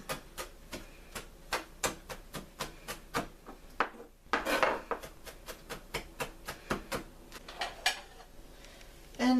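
A knife chopping thin-sliced food on a cutting board, steady sharp taps repeating at an even rhythm, close and clear, with a short pause midway before the chopping resumes.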